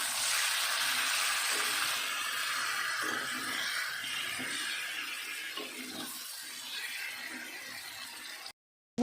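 Cumin and coriander powder fry in hot oil in a pan for aloo dum, giving a steady, close bright sizzle that hisses continuously and fades slightly before cutting off abruptly near the end.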